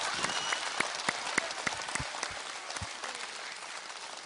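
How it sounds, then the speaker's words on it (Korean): A studio audience at a lecture on laughter claps briefly, with scattered, fairly faint hand claps that thin out over a few seconds in a large room. "박수"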